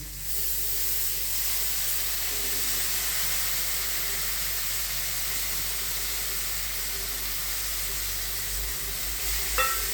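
Soaked moong dal hits a hot pan and sizzles with a steady, close, steamy hiss for several seconds, ending with a brief clatter as it is stirred.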